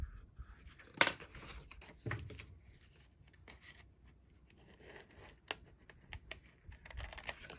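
Close-up snips of scissors slicing through paper, with a sharp crisp cut early on and softer irregular snipping and rustling afterward.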